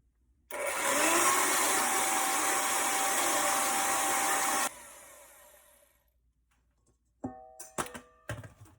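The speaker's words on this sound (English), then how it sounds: "I'm going to use a hand mixer to start it" Electric hand mixer beating vegan tiramisu cream, a loud steady whirring drone that runs for about four seconds and then cuts off, followed by a few knocks and clatters of the bowl and beaters.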